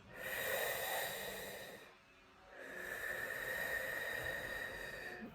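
Deep, drawn-out breaths during a guided breathwork session, one long airy exhale trailing off to a pause, then another steady breath rising and holding, close and alone with no talking.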